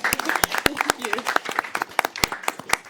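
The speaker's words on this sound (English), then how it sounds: "let's give Jasmine a big round of applause" Audience applause at a Gaithersburg city council meeting, a steady patter of many hands clapping for about three seconds, fairly close and full, with no talking over it.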